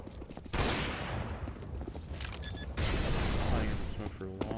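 Gunfire in Counter-Strike during a pro match at IEM 2017, dense bursts of shots and rapid automatic fire rattling almost continuously over the whole stretch, loud and close, with other game noise mixed in.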